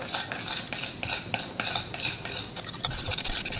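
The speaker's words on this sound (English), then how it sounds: "we're going to grab a spoon and mix this all together" A spoon stirs and scrapes fish taco sauce in a bowl, close, continuous rhythmic scraping and soft clinking with no voices.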